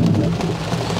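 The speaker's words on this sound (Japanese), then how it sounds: "こんなザーザー降りになると思わなかった" Heavy rain pours down steadily during a rainy touring trip, a loud, dense, continuous roar with no talk over it.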